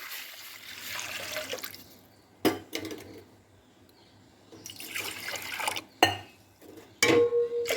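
Water runs and splashes into a wide cooking pan in bursts separated by pauses, with a few sharp knocks of the pan or vessel in between.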